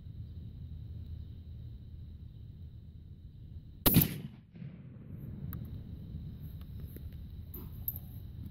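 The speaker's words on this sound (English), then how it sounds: "So we're going to take a shot down there." A single sharp, loud shotgun blast fired at a target about 30 yards away, cracking out suddenly after a quiet outdoor stretch and trailing off into a faint decay.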